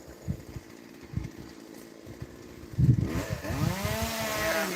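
A chainsaw runs outdoors, first ticking over at a low rough idle with uneven pulses, then revving up into a louder whining drone that rises and falls in pitch.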